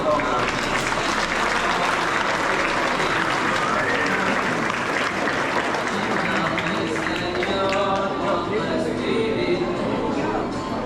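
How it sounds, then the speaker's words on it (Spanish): Guests at a baptism clap for the newly baptized child, a steady wash of applause from a crowd. Voices and chatter mix in with the clapping throughout. "Un aplauso para Gustavo."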